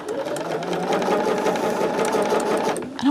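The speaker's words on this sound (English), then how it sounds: "I guess this box behind my sewing machine is why this is wanting to veer over." Sewing machine running steadily at close range, a fast even mechanical whir with a rapid needle rhythm that continues for a few seconds before easing off.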